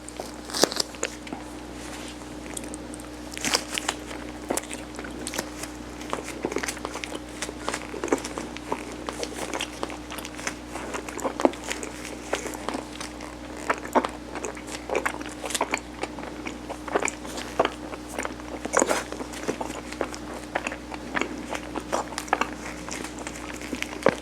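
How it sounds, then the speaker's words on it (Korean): Soft mugwort chapssaltteok, a glutinous rice cake, being eaten close to the mic, with faint moist chewing and small clicks repeating steadily over a low background hum. "이번에는 쑥으로 먹어볼게요."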